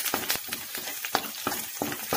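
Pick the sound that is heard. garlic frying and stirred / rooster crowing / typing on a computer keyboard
garlic frying and stirred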